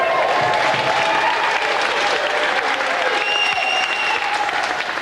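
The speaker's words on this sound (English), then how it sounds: "Round of applause again for Nick." Studio audience of a TV game show applauding steadily throughout, a dense sustained clapping with faint cheering mixed in.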